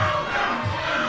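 A wrestling arena crowd roars steadily during a wrestler's entrance, a dense continuous cheer with no break across the short moment.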